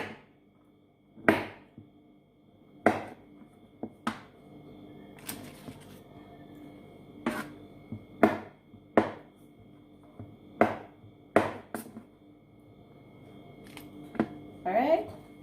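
A knife cuts small pieces of butter into a baking pan being greased for Jamaican-style baked chicken. Sharp, close clicks and taps come at irregular intervals over a quiet background.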